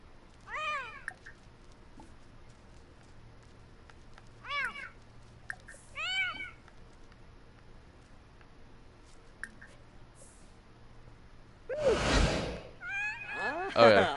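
A Sims 4 cat meows several times in short rising-falling calls, spaced apart across the clip, with a louder burst of meows near the end; a person talks intermittently over the game sounds.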